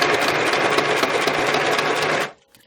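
A sewing machine sews a vertical running stitch through old book pages for a junk journal, a loud close rattling whirr for about two seconds that cuts off abruptly into near silence.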